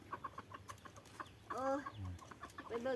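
Native-breed village chickens cluck close by in a series of short, choppy calls, with a louder, drawn-out squawking run midway and more clucks toward the end, over quiet background noise.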